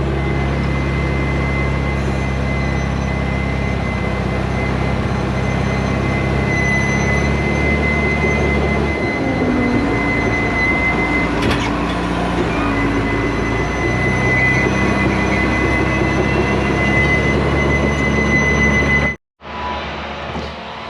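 A bulldozer rumbles steadily with a persistent metallic squeal from a track or roller bearing, loud and close, then the engine cuts off abruptly near the end as it runs out of fuel.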